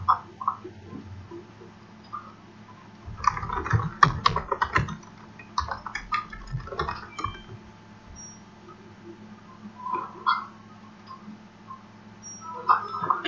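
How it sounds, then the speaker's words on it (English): Typing on a computer keyboard and clicking a mouse, bursts of close clicky keystrokes in irregular clusters with pauses between, fairly quiet. "keyboard, mouse."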